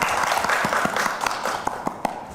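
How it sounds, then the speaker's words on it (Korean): Audience applause at a forum on gender conflict and gender equality welcomes a speaker: a steady patter of many hands with a few sharper claps, fairly close and sustained throughout. "박수로 맞아 주십시오."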